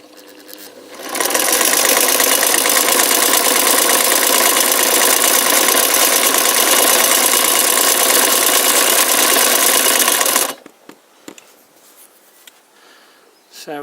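A KDAZ transverse vibrating shuttle sewing machine runs steadily for about nine seconds with a loud, even mechanical whir and a heavy guttural tone, then stops abruptly, leaving a few faint clicks.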